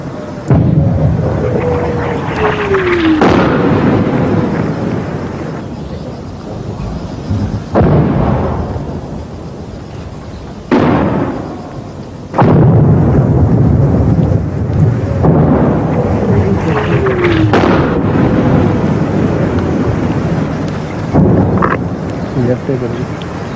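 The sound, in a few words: artillery fire and shell explosions in liberation war documentary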